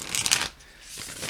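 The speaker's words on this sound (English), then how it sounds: "So let's shuffle some cards." A deck of playing cards is shuffled close up, a dense papery riffle burst lasting about half a second, followed by quieter handling noise and a soft second flutter.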